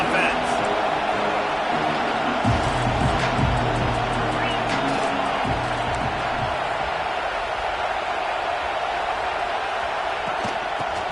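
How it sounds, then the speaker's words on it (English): A football stadium crowd roars against the opposing offense, a steady, loud wash of massed voices and noise that never lets up, with a commentator talking over it throughout. "This crowd trying to make life miserable for this offense."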